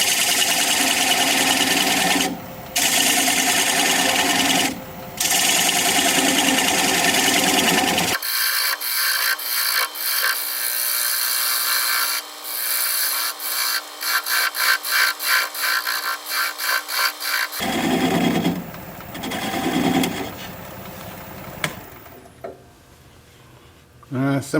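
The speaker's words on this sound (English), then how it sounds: "I'm going to use a 3/8 inch standard grind bowl gouge and begin to removing the tenon." Sycamore spinning on a wood lathe while a 3/8 inch standard grind bowl gouge cuts away the tenon at about 600 RPM, giving scraping, rasping cuts with a steady whine and brief pauses between passes.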